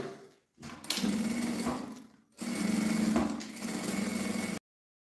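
Sewing machine stitching bias binding onto a pouch, running in two steady buzzing bursts separated by a short pause, close and fairly quiet.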